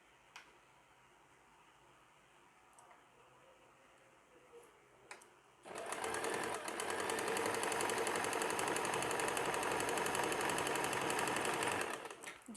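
A sewing machine stitches a pajama seam, starting after a few quiet seconds of faint ticking and handling, then running loudly and steadily for about six seconds before stopping.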